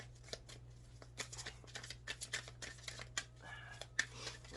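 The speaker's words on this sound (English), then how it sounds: "let's get the cards out here" Tarot-style reading cards are handled and shuffled close by, giving soft papery riffles and flicks over a steady low hum, fairly quiet throughout.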